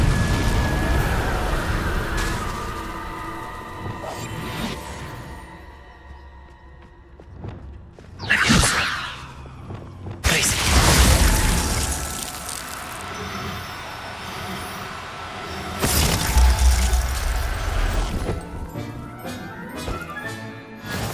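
Spell casts and explosions from the Hogwarts Legacy video game, with bursts of loud magical blasts and whooshes around the middle and later, over a steady rumbling game soundscape.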